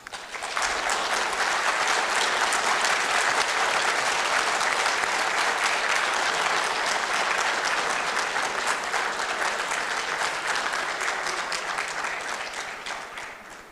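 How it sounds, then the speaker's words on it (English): Delegates at a boxing association congress applaud at length to elect a president by acclamation, a loud, dense and even wave of clapping that holds for over ten seconds before fading. "I hereby invite you all to elect Mr. Kremlev by acclamation, by a round of applause,"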